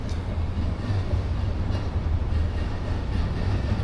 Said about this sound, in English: This bridge shakes every time those trains come past.